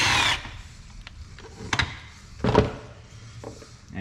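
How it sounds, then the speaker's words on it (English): An 8mm bolt removed from a 2003 Mercury Grand Marquis near the radiator hose, with a short power-tool whir followed by scattered close clicks and knocks of tool and metal. "Next, we can go ahead and remove this 8mm bolt."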